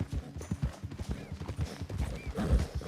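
Horse hooves clip-clop steadily on a road in Red Dead Redemption 2, with a rapid, even rhythm of close, moderately loud footfalls and faint tack jingles throughout.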